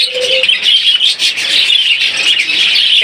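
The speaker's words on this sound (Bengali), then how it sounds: "এখানে দেখতে পাচ্ছেন একজোড়া বাজিগার পাখি" A pair of pet budgerigars, a pied male and a red-eyed lutino female, chirp and chatter continuously at close range with rapid, bright warbling tweets.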